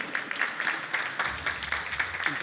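An audience at a school quiz competition applauds: a continuous, fairly quiet patter of many hands clapping at an even level, with no voices over it.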